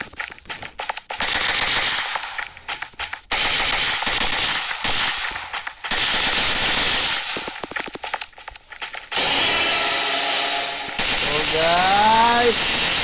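Gunfire from the Kuboom 3D FPS shooter game: loud bursts of rapid automatic fire that start and stop, separated by short gaps, with a rising electronic tone toward the end.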